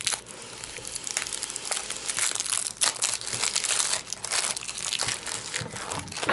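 Plastic shrink-wrap on a Clank! Sunken Treasures board game box crinkles and tears as it is pulled off, a busy close-up stream of crackling rustles that runs for the whole stretch without pause.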